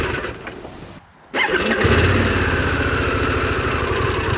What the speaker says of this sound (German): Dritter Startversuch mit Gang drinnen,